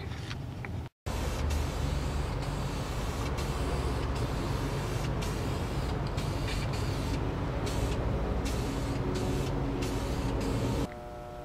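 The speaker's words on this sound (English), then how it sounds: "I'm going to put another coat of my primer on there." Primer being spray-painted onto Yamaha FZR motorcycle parts in cold weather: a steady, loud hiss of the spray runs nearly the whole time, breaking once for a moment near the start and easing slightly at the very end.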